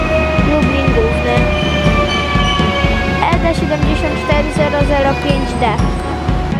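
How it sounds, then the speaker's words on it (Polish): A Polregio passenger train from Chełm rolls into Lublin Główny station, loud and close with a dense rumble, droning motor tones and squealing wheels. "Dojedzie jeszcze pociąg do Lublina Głównego z Chełma"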